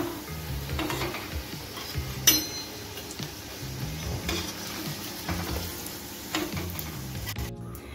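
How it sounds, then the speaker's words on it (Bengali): Bombay duck fish chops frying in oil, a moderate sizzle under recurring stirring and scraping knocks with a few light clinks, fairly close. "একই তেলে বাকিগুলো ভেজে নিচ্ছি।"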